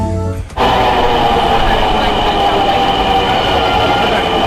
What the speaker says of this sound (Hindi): थोड़ी ही देर में हमारी मेट्रो भी आ जाती है